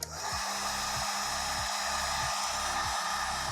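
A heat gun warms a vinyl skin on an Asus ROG Ally Xbox handheld to smooth out ripples. It gives a steady, close airy blower roar with a low motor hum that dips in a regular pulsing pattern.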